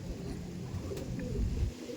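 Aggressive Andhra pigeons coo in low, rolling murmurs, steady and close, with a faint brief chirp midway and no talk.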